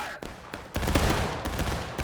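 Musket volley fire in the American Civil War game War of Rights, heard as a dense roll of overlapping shots that swells into a sustained crackling fusillade, loud and close.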